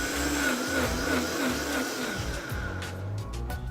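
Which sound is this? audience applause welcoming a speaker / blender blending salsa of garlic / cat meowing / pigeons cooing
blender blending salsa of garlic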